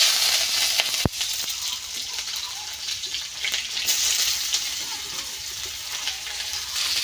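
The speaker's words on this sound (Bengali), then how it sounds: "এটা হচ্ছে অল্প তেলে মাছ ভাজার টেকনিক।" Fish frying in a little hot oil in a wok, a steady close sizzle and crackle that runs the whole time with one sharp clink near the start.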